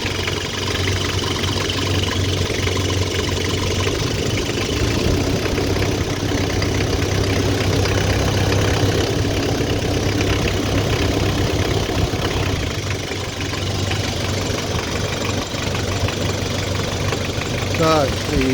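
Isuzu 4JG2 diesel in a Bighorn Trooper running steadily after an injector rebuild, a close, loud, knocking idle with hand-worked throttle and only slight swells in revs throughout.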